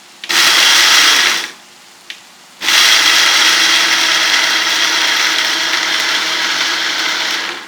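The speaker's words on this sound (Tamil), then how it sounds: "இந்த நேரத்தில் வந்து நம்ம இந்த மசாலா பொடியை அரைச்சி எடுத்துடலாம்" A kitchen mixer grinder grinds dry masala powder for brinjal rice in loud, close bursts: a short high whirr, a pause with a small knock, then a longer steady roaring whine.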